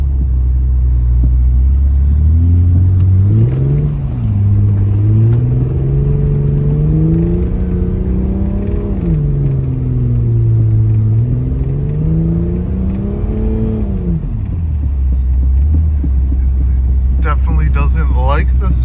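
A two-wheel-drive Jeep WJ pushes through deep snow during a snowstorm, its engine revving up and down in long, loud, close surges as the tires spin and slide, then settling back to idle.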